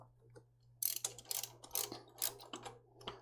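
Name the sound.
ratchet torquing Jeep XJ 4.0 manifold bolts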